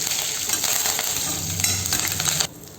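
Green chili, dried red chili, curry leaves and cashews fry in hot oil after mustard seeds have popped, a loud continuous sizzle with some stirring, cutting off sharply near the end.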